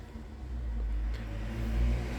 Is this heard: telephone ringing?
no